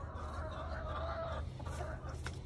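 Hens cluck softly at a backyard nest box, a steady low murmur of fowl calls with a few brief louder clucks, fairly quiet and close.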